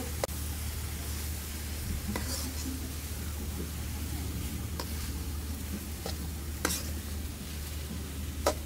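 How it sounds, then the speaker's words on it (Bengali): Rice is stirred and fried in a pan for shrimp khichuri, a low steady sizzle with occasional scraping clicks of the spoon, close by under faint background noise. "লাড়াচাড়া করো, চালটা বাদামি কালার ভাজা হোক একটু।"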